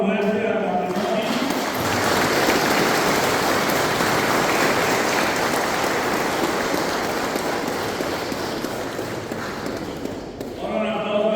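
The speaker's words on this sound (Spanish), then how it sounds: "Un aplauso fuerte al matrimonio." Congregation applauding the newly married couple at a traditional wedding mass, a loud, dense burst of clapping that swells and holds for several seconds, with a voice speaking briefly at the start and end.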